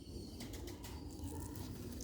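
A breeding pigeon flutters its wings in brief soft bursts with faint cooing, heard close but quietly over a low, steady background rumble.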